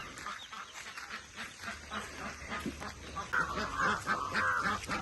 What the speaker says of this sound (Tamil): வாத்தை திறக்கலாம்.